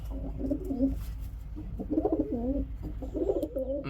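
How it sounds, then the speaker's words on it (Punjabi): Pigeons coo in repeated low, throaty bursts, close by, with a steady background hum underneath. "ਉਹ ਵੀ ਬਹੁਤ ਗੁੜਕਦਾ ਬਈ ਜਿੰਨਾ ਇਹ ਗੁੜਕਦਾ ਉਹਨਾਂ ਕੋਈ ਗੁੜਕਦਾ ਨਹੀਂ ਕਬੂਤਰ"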